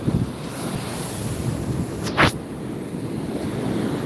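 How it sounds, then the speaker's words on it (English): Wind buffets the microphone in a steady rushing roar over surf on Navarre Beach, Florida, with one brief louder gust partway through. "It's windy and cold like this."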